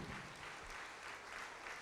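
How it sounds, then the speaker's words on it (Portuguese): A church congregation applauds steadily at a worship service, broad continuous clapping filling the space at moderate level with no pauses. "Vamos aplaudir mais ao Senhor Jesus."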